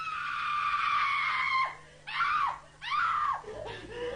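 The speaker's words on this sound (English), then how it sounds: "Independent acoustic consultants recorded her scream on tape" A woman's scream in a flat, recorded for an acoustic test: a long, loud, high sustained shriek, then two shorter rising-and-falling screams, all close and harsh with nothing else behind them.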